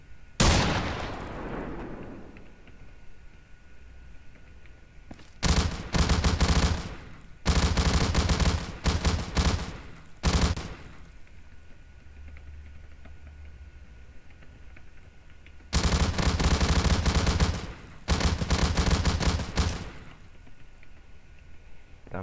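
Weapons in a WWII Soviet roleplay video game fire in loud bursts of rapid automatic shots, several separate volleys lasting a second or two each, split by quiet stretches.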